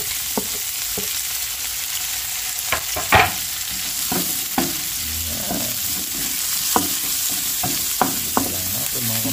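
Onion and garlic sautéing in a pan, a loud, close sizzle punctuated by repeated scraping and knocking of a spatula stirring at an irregular rhythm, with no speech.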